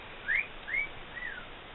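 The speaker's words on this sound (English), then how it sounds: "that was my sister whistling" A person whistling faintly in the background, three short rising-and-falling notes spaced apart over quiet room noise.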